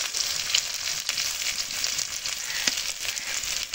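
Boiled potatoes seasoned with salt and turmeric fry in hot oil, giving a steady, close sizzling hiss throughout with a few brief crackles and no voices.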